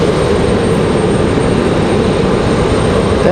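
Endeavor CRJ 900 regional jet at stormy Raleigh-Durham airport, a steady loud broadband engine roar holding evenly throughout with no talk over it.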